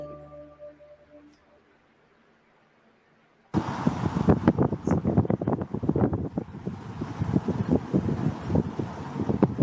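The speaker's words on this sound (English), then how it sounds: "Sounds windy." Strong wind buffets the microphone in a sudden, continuous roar that starts after a quiet stretch and keeps gusting loudly.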